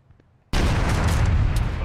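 During platoon training for an amphibious landing, an explosive charge detonates after near-silence in a sudden loud boom that rolls into a sustained roaring rumble.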